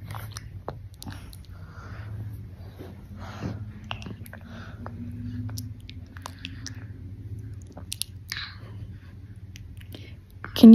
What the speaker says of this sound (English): Can you chew with your mouth closed?